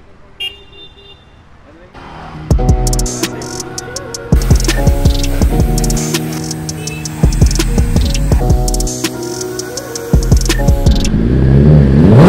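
A Suzuki Hayabusa motorcycle engine revs up in several loud, close bursts, each climbing in pitch and then dropping back to a rumbling idle, with the bursts rising in intensity toward the end.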